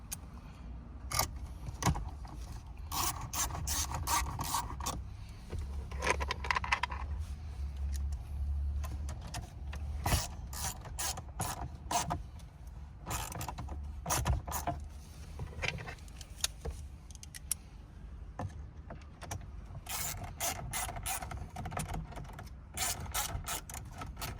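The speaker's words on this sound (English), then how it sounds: "We're going to put the 10mm bolts back into the location. So we're just going to tighten them up a little bit" A ratchet clicks as 10mm bolts are tightened in the dash of a 2014–2015 Toyota Hilux N70 during a stereo install, giving short repeated ratcheting bursts with small metallic clatter between them, close up and with no talk.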